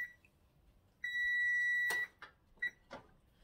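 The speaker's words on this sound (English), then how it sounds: "The oven is beeping at me." A kitchen oven timer sounds one long steady electronic beep, followed by a couple of shorter beeps and some faint clatter nearby.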